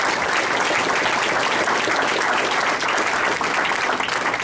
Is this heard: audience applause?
yes